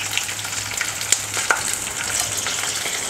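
Ginger and green chili frying in spiced oil for an onion-free, garlic-free shahi paneer: a brief, even sizzle with a couple of sharp pops and stirring scrapes, close and unaccompanied by talk.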